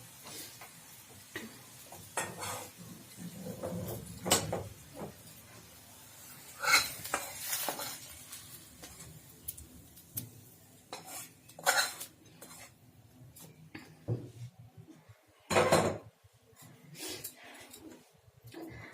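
Quiet clinks and scrapes of a utensil stirring in a pan, with sizzling spices tempering over reddened garlic and onion for khesari greens, and scattered tapping sounds, no talking.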